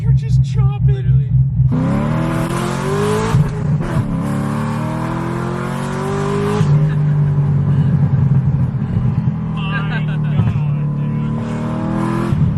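A BMW F80 M3 stopped at a red light, its engine idling with a lumpy, chopping rhythm. The low pulsing is clearest at the start, then continues under loud conversation from people in the car.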